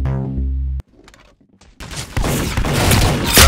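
Rapid gunfire bursts from the Roblox Arsenal shooting game, loud and dense after a brief tonal intro and a short quiet gap, firing continuously through the second half.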